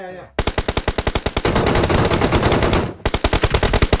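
Rapid automatic gunfire in the PUBG Mobile battle royale game, a steady loud burst of rounds with a dense stretch of overlapping shots in the middle, then separate rhythmic shots resuming.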